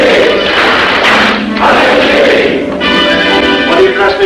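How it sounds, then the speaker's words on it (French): Members of a Masonic lodge in a 1943 film give a collective acclamation during the apprentice-degree opening ritual. A loud, sustained chorus of voices fills the whole clip, and no separate claps stand out. "À moi mes frères, par le signe, la triple batterie et l'acclamation."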